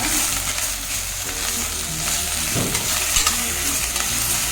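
Ingredients for sambar fry and sizzle in a pan while being stirred, a steady close hiss with a brief scraping stir midway and no talk.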